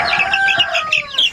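Roosters and chickens in a farm coop, close clucking and squawking calls overlapping in quick bursts, loud and busy with no talk.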